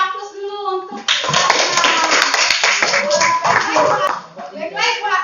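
A classroom of primary-school pupils bursts into applause for about four seconds, dense overlapping hand claps with children's voices mixed in, before fading as a teacher resumes talking.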